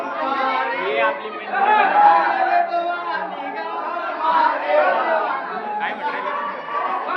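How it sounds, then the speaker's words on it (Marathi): Crowd chatter at Daulatabad fort, with many overlapping voices talking close by in a steady, busy murmur and a nearby speaker's voice mixed in. "खूप गर्दी आहे गाईस खूप गर्दी आहे"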